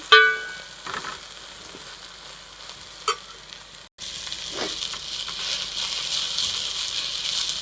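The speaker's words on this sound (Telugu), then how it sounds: "ఇవి ఉల్లిపాయలు ఇలా తిప్పుకోవాలి మొత్తం కలిసేదాకా తిప్పుకొని" Onions sizzle and fry in a pan for a white gongura curry, a steady close hiss with a few spoon scrapes and clinks as they are stirred, growing slightly stronger after a brief break.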